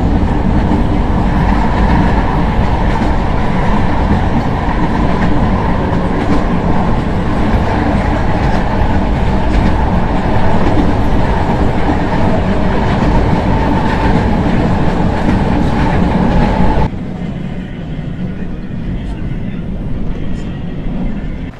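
A Manila metro train rumbles loudly and steadily at close range, a continuous roar of wheels and motor that drops to a softer hum near the end.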